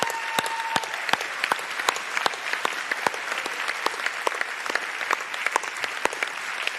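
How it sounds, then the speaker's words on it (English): Applause from a graduation ceremony audience at EIT Hawke's Bay, a continuous spread of many hands clapping with sharp individual claps standing out, fairly distant and even in level. "I think that deserves another round of applause."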